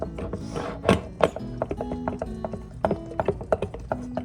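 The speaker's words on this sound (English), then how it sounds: "Okay, so we're gonna stir it up." A spoon stirs a sourdough starter in a jar, giving a string of sharp, ringing clinks and scrapes at an uneven pace. The sound is close and clear, with no talk.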